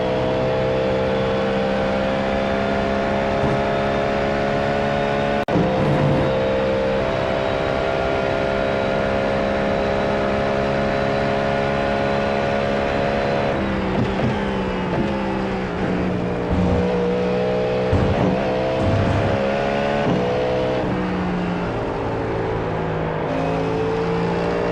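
A Cadillac GTP prototype race car engine in the iRacing simulator drones loudly and continuously, its pitch rising and falling through gear changes and lifts over a full lap, with no talking.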